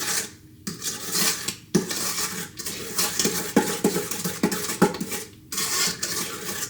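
A spatula scrapes down the sides of a mixing bowl of sugar cookie dough, with repeated scraping strokes and clinks against the bowl under a light background hiss, close and fairly soft, no voices.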